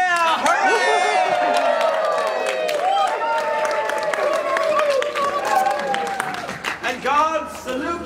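An audience cheers and applauds for a king and queen at a castle acting scene, loud whoops and shouting voices blending with clapping throughout.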